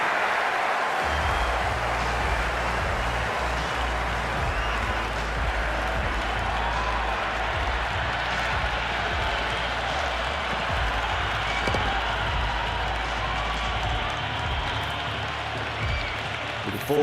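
Dense stadium crowd roaring and cheering at an India vs Pakistan T20 World Cup final cricket match, a loud continuous wall of noise with scattered claps and shouts throughout.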